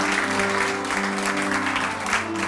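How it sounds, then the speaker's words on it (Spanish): Audience applause welcoming film teams at a film festival event, a dense continuous clapping wash over a steady low hum, with a faint voice underneath. "A todos ellos, como siempre, vamos a recibirles con un fortísimo aplauso"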